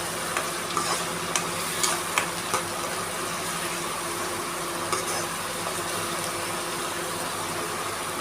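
Cumin, cinnamon and tomato-onion paste fry in hot oil with a constant close sizzle, broken by small scattered pops and light stirring clicks.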